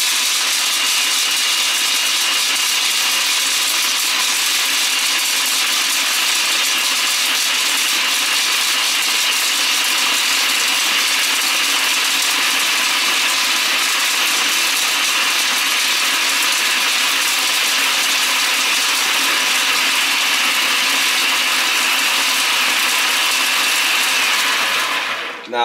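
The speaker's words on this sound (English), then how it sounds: "we're going to put it into the food processor" A food processor chops almonds continuously at high speed for a long stretch, a loud, steady whirring grind with a rattling edge, then stops abruptly.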